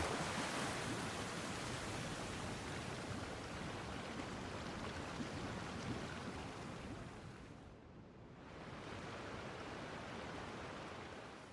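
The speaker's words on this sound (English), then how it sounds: "It's a waterfall." A waterfall in the Genshin Impact video game gives a steady, broad rushing roar of falling water, loud and continuous throughout, with a brief dip near the end and no voices.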